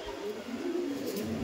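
A Delhi Madrasi pigeon in a loft gives low, continuous cooing, a soft steady burble heard close and alone for a short spell.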